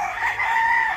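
A fighting rooster at a gamecock farm in Pangasinan crows loudly and close by, one sustained cock-a-doodle-doo with no talk.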